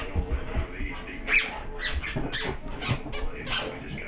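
A squeaky dog toy squeaks in repeated short, high bursts as a German Shorthaired Pointer plays with it, moderately loud over steady background noise.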